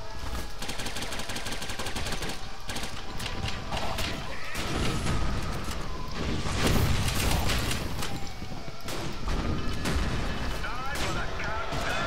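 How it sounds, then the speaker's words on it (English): Rapid automatic gunfire and bursts of shots in the video game Gotham City Impostors, dense and loud throughout, with a player's voice briefly laughing over it. "who's shooting at me now?"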